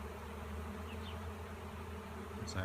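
A honey bee swarm pours out of a hive, filling the air with a soft, continuous buzzing hum of many insects, fairly faint and even, with a slight swell at the very end.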